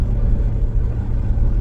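A car cruising along a highway, heard from inside the cabin as a constant deep rumble of road and engine noise, loud and unbroken, with no voices.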